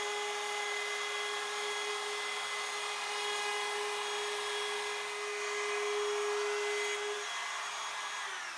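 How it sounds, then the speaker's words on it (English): Router cutting an English oak and epoxy river shelf, a steady high-pitched whine holding constant and loud throughout with no talk. "you shouldn't really need to sand after routing, especially with a nice new bit like that"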